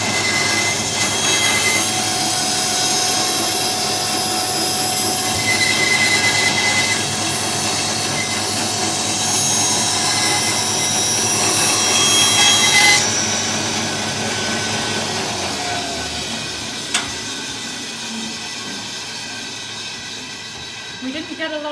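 A bandsaw cuts a tight curve through wood with a loud, continuous hissing whine. The sound eases and softens partway through before tailing off.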